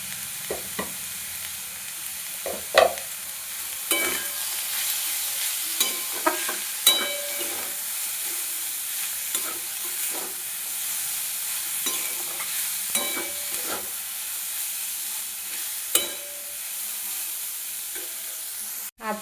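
Cauliflower stirred and sautéed with turmeric in a frying pan gives a steady low sizzle, broken by intermittent scraping clicks of the spatula against the pan.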